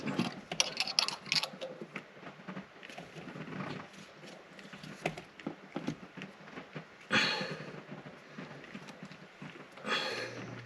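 A tap is threaded into a hole with a ratchet during an Edge CTS3 Juice with Attitude install. Faint, irregular ratchet clicks and scraping come in short bursts, close by, with stronger clusters near the end and no talking.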